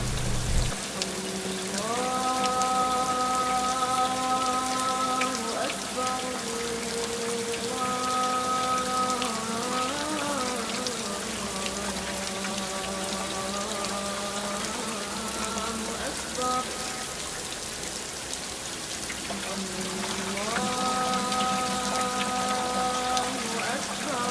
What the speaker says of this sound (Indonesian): dengan kondisi hujan deras dan berkabut